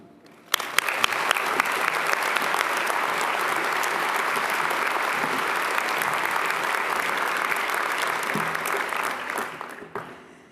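An audience at a commencement ceremony applauds to welcome the speaker, a sustained wash of clapping from many hands that starts abruptly and tapers off at the end.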